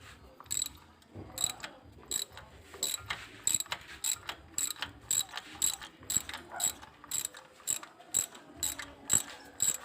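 Ratchet wrench loosening a spark plug on a Toyota Avanza or Daihatsu Xenia car, steady rhythmic clicking of the pawl in repeated short strokes, close and clear with no talking.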